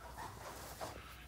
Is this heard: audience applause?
no